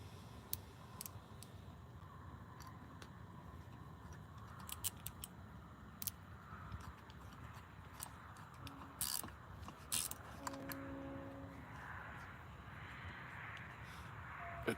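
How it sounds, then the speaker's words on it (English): A new screwdriver drives a bolt, giving quiet scattered ratcheting clicks and sharp ticks at an uneven pace over a low background hum, with a brief whirring tone near the end. "And I've got to use my new screwdriver."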